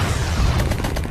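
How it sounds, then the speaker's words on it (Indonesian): A dense artillery barrage booms in a continuous rumbling roll with overlapping blasts and crackling bursts, loud and close throughout. "Artileri pun segera ditembakkan dan mengenai sebagian kecil pasukan Vietnam Utara itu"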